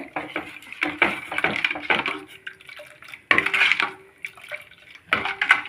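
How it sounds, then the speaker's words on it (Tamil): A whisk clinks and scrapes around a bowl while mixing urad flour batter with salt, in uneven bursts of rapid metallic tapping separated by brief pauses. "இந்த விஸ்கு வச்சு கலரி விடுறேன் இப்போது இதில் கொஞ்சம் உப்பு சேர்க்கலாம் நல்லா கலரி விடுங்க"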